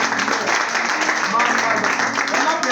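A church congregation applauding during a Sunday worship service, a dense steady wash of many hands clapping at once, loud and continuous with voices mixed in.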